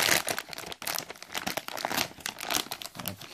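Plastic film or packaging on a boxed PNY NVIDIA GeForce GTX 980 graphics card being peeled and crinkled by hand, a dense stream of close, crackly crinkling and tearing with short pauses, no talking.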